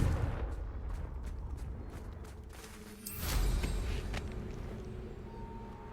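A Confringo fire spell explosion in the video game Hogwarts Legacy: a few quick crackling snaps, then a loud burst with a rumbling boom that slowly decays.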